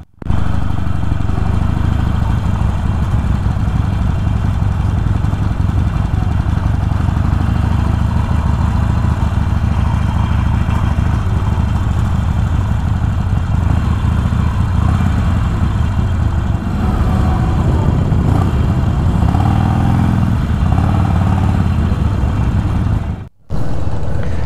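A Harley-Davidson motorcycle engine runs steadily and loudly throughout at a motorcycle event, with a low rumbling drone and some clatter, cutting out briefly near the end.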